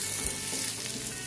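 Shrimp stir-fried with spices and starfruit in a hot pan: loud, close, continuous sizzling and crackling frying with faint stirring, no talk.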